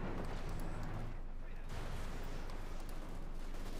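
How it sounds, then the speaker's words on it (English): Sustained battlefield gunfire and artillery from a Company of Heroes 2 match between Wehrmacht and Soviet forces, a dense continuous roar of shots and blasts throughout, with a commentator talking over it. "Just shoot anyways."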